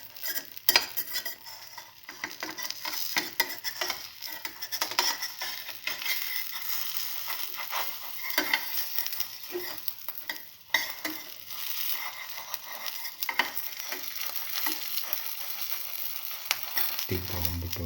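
A cinnamon shallot omelette fries in a pan with a steady, close sizzle and crackle, broken by a few light scrapes and clinks of a utensil, with no talking.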